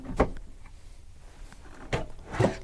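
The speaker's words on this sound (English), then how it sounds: "A very tight soft closing drawer," A tight soft-close drawer in a 2023 Midwest Automotive Designs MD2 170EXT camper van shuts with a few short, soft thuds and slides, fairly close, with quiet pauses between them.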